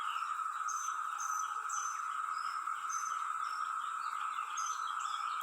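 Cicadas buzz in a continuous, even drone, with brief higher chirps repeating over it at a moderate, steady level.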